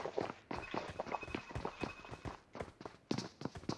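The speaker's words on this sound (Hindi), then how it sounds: "यहाँ पर मैं उतरा ही था लेकिन तभी मुझे कुछ बंदों की पायलों की आवाज सुनाई देती" Enemy players' footsteps in the battle-royale game BGMI patter quickly and unevenly, a run of soft, close thuds at a brisk pace.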